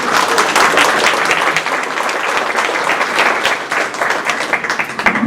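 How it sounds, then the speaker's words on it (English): Audience at a foundation gala event gives a sustained round of applause, a dense, steady wash of many hands clapping at close range for the whole stretch. "Let's give him a round of applause."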